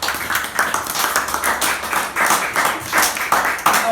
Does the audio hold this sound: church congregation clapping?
yes